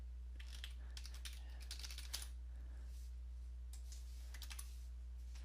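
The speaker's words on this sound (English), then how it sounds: "I'm going to type in my computer password." Typing on a computer keyboard in short bursts of light, quick clicks with brief pauses between, faint and close against a steady low hum.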